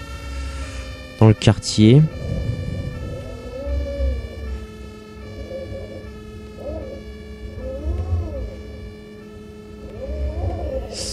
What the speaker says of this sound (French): Ah bah les pompiers, c'est la joie